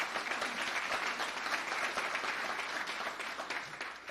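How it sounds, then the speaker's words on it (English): An audience applauds veterans at a political talk, steady dense clapping from a sizable crowd that holds at an even level throughout without any talking. "Give the round of applause for my veteran brothers and sisters"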